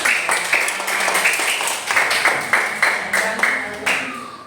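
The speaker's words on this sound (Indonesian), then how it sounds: "Dan beri tepuk tangan untuk Mas Azam." A classroom of students claps for a student presenter named Azam, a short burst of moderately loud, uneven applause with a few sharper claps standing out, under a faint murmur of voices.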